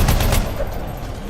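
Rapid gunfire from the video game Anthem, a dense burst of loud shots in the first half-second that tails off into a lower, rumbling wash of combat noise.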